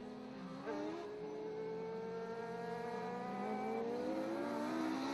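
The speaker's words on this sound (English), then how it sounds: "Mod Light heat race number 2 coming onto the track." Mod Lite race cars rolling onto the track for a heat race at a dirt oval, engines droning and rising in pitch as they accelerate, a sustained mid-distance roar with several cars blending together.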